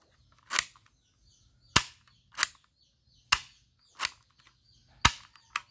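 A toy cap-style gun from a Spider-Man action series fires seven sharp cracks at irregular intervals, each crisp and close over near silence with a faint low hum between shots.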